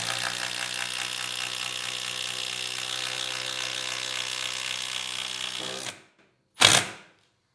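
A Milwaukee M12 cordless drill whirs loud and steady for several seconds, stops abruptly, then gives one short burst after a brief pause.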